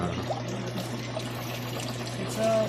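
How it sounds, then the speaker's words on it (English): Water drains out of a big backyard farm pond in a steady, continuous trickling and pouring flow, close and fairly loud, swelling slightly at the end. "we're starting to drain the big pond."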